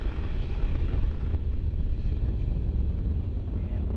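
The rocket carrying the MSL Curiosity rover roars at full thrust. The sound is a loud, continuous, low-heavy rumble with a windy, buffeting texture, and there is no talk.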